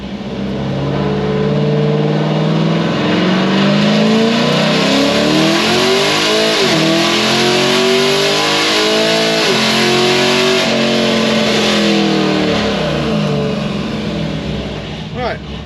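Cammed Chevy SS pulling hard from second gear, its engine roaring loud and near as the pitch climbs steadily, with short dips at gear changes and the rough, choppy tone of an aggressive cam.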